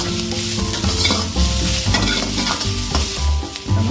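Chopped capsicum and carrot stir-frying in a pan for vegetable fried rice, a steady loud sizzle with repeated scraping stirs throughout, no voices.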